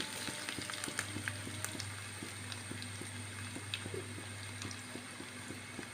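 Garlic and ginger fry in hot coconut oil with a quiet, steady sizzle, punctuated by frequent small pops and crackles over a low background hum; no one speaks.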